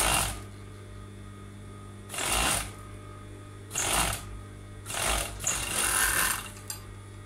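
A sewing machine stitches a band onto a T-shirt sleeve in several short bursts of rapid chatter over a steady low hum, with quiet pauses between runs.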